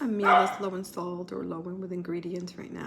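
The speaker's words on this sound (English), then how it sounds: "that's my dog barking in the background." A pet dog yips and barks in short bursts in the background while a person talks over it close to the microphone.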